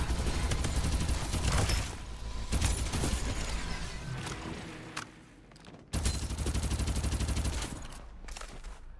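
Sustained automatic gunfire from the Farlight 84 shooter game, loud and continuous bursts with a brief lull near the middle before the firing resumes at full intensity; no voices.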